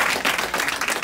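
Brief, dense applause from an audience at a school science quiz event, a continuous wash of clapping hands that fills the room, fairly loud and steady.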